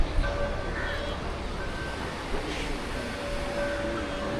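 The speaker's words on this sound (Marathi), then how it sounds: "समुद्राच्या लाटा भारी आहेत, मस्त आहेत ना लाटा" Sea waves washing onto Murudeshwar beach, a steady broad roar of surf with wind noise, continuous and moderately loud, without clear individual breaks.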